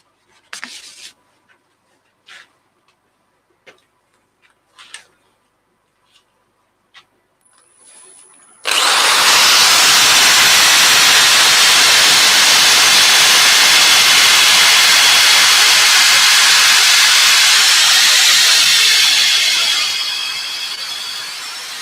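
A few light taps and knocks come first, then a power sander starts on an ash end-grain piece, a loud, steady, close rushing whine that runs continuously for about thirteen seconds before easing slightly at the end.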